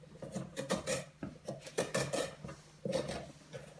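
A spoon scraping and scooping out the inside of a pumpkin, with repeated rasping strokes in an uneven rhythm, close and fairly quiet, with no talk.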